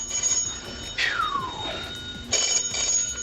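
A telephone at the Oklahoma State Penitentiary rings in bright electronic bursts, one near the start and another around two and a half seconds in, with a falling tone between them, heard alone with no talk.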